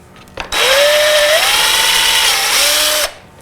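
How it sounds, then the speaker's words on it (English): Power drill with a slightly larger bit enlarging screw holes during an LED fog light install on a Toyota truck, one loud close whine of about two and a half seconds whose pitch rises under load, then stops. "we're going to take a slightly larger drill bit and drill them out a little bit"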